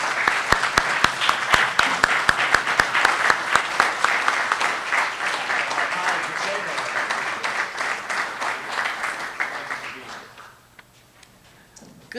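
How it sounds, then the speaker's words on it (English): At a Veterans Day ceremony the audience applauds a speaker taking the podium, with sharp individual claps standing out early before the clapping thins and fades into quiet near the end. "Let's have a nice round of applause for her"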